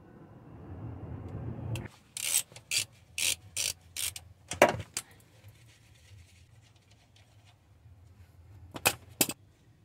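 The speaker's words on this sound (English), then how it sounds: "I'm gonna be removing this 19 millimeter nut here" Ratchet wrench turning a 19 mm nut off a motor mount on a Toyota Sienna 3.3, heard as about five close, sharp broadband clicking bursts in a steady rhythm, then a louder clatter, a quiet stretch and two final bursts, with no talk.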